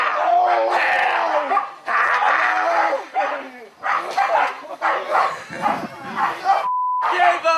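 Dogs barking in bursts amid loud, overlapping shouting voices as police struggle to subdue two violent men, with a brief hissing spray near the end.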